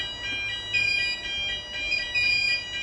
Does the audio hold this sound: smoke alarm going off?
yes